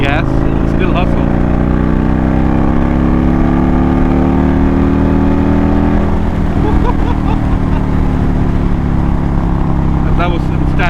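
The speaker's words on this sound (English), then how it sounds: "I'm doing 60 in standard mode, 4th gear, and if I give it gas, it'll still hustle." An Indian Roadmaster Dark Horse 116 motorcycle in 4th gear at about 60 mph in standard mode pulls hard under throttle, a loud continuous engine roar with rising pitch, heard from the rider's position, with someone talking over it.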